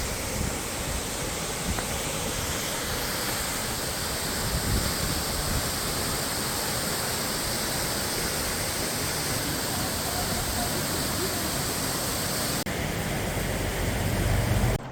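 Horsetail Falls on the Historic Columbia River Highway trail, a steady, loud broadband roar of falling water heard up close, constant throughout with no voices.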